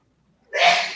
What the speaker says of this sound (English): I'm about to say that is a strong sneeze.